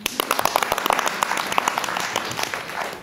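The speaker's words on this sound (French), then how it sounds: "Eh bien, c'est moi, applaudissez" A theatre audience applauds after an actor's line in a staged comic epic, with many sharp overlapping claps, fairly close and lively, filling the short stretch.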